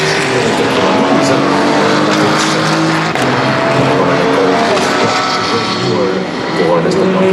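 LMGT3 race cars, including Ford Mustang, Lexus, Porsche and Aston Martin entries, at the 2026 24 Hours of Le Mans: a loud, continuous roar of engines passing and droning throughout, under a commentator speaking French.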